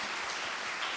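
A church congregation claps together during a Sunday daytime worship service, producing a steady, dense wash of applause throughout the short moment with no voices.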